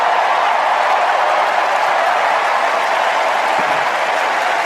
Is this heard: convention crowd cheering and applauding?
yes